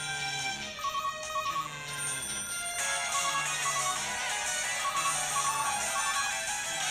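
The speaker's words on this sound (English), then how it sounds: "All the phones are ringing." Several phones ring together in the Calling horror game, with repeating electronic ring tones layered over a dense, loud background.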